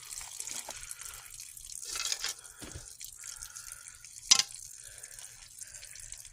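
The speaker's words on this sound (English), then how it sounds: "we're going to let that drip for a little while" Water drips from a drained water filter housing, sparse irregular drops with soft trickles and one sharper splash, quiet and close in a still room.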